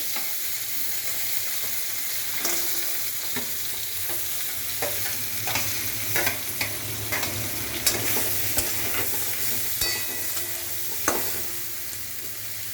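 Drumstick (sajne) flowers and peas fry in oil with salt in a pan, sizzling steadily while a spatula scrapes and stirs in repeated clicks and scrapes, with no talking.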